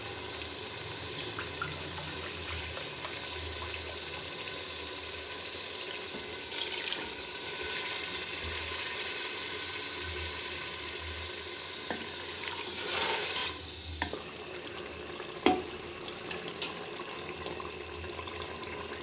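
Water poured into a pan of cooking keema matar, minced meat and peas, a continuous close pouring and sizzling hiss, steady with a brief louder burst near the end and no talking.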